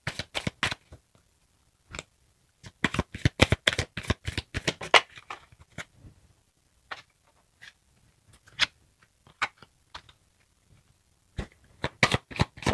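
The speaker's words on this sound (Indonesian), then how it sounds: "Saya akan shuffle untuk zodiak Aquarius." Tarot or oracle cards (a Divine Abundance deck) being shuffled during a reading, heard as bursts of crisp riffling clicks and slaps that start and stop in clusters, close and alone with no speech.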